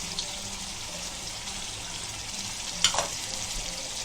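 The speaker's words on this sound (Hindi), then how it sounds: "अभी ये मसाले का पानी डालेंगे और बिरयानी मसाला डालेंगे।" Spiced water is poured into a pot of cooking chicken biryani, over steady loud frying sizzle. A short splash of liquid hits the hot pan near the end, with no talking.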